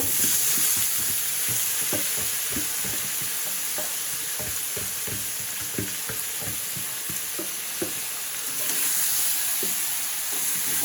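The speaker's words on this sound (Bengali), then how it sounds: "এখন মাংসটাকে সুন্দর করে কষাই নিব আস্তে আস্তে" Meat being stir-fried with fried onions in a pan, a steady loud sizzle with repeated scraping strokes of the spatula at an uneven rhythm throughout, close up.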